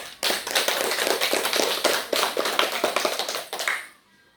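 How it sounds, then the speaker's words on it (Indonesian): A secondary-school classroom gives a round of clapping: brisk, close hand claps with a tapping rhythm that swell together for nearly four seconds, then stop abruptly. "Tepuk tangan untuk Endri."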